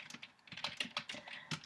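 Typing on a computer keyboard while composing an email, a quick irregular run of light, close key clicks lasting under two seconds, with no talking.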